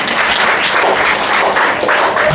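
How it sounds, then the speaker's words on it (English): A church congregation claps and applauds steadily throughout, a dense, lively patter of many hands. "Clap for Jesus"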